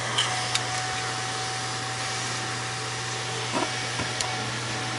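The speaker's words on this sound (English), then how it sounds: "listen to the sound of this fan. Listen to it load up when I put this on it." An electric fan runs under load with a steady whooshing drone and low hum, close by and constant, with a few faint clicks and bumps over the top.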